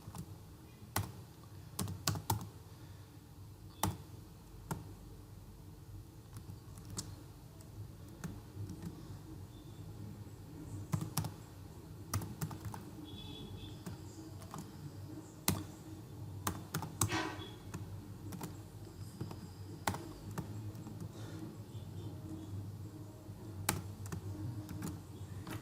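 Code being typed on a computer keyboard, with irregular bursts of close key clicks and taps over a quiet room hum, no speech.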